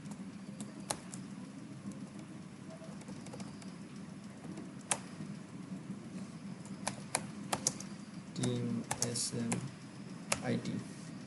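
Light typing on a computer keyboard, scattered soft key clicks with a quicker burst of taps near the end, under a faint voice and low background hum.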